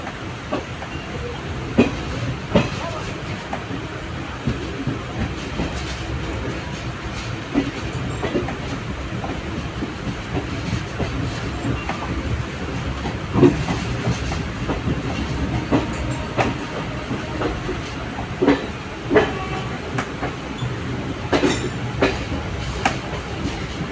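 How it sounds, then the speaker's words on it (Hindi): A Rajgir to Tilaiya special passenger train, number 03322, pulling away and running steadily, with continuous rumble and repeated rhythmic clickety-clack of wheels over rail joints, close and fairly loud throughout, no talking. "राजगीर से तिलैया के लिए राजगीर तिलैया स्पेशल ट्रेन रवाना हो गया"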